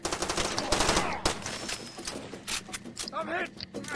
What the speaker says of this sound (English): I'm getting shot from my left.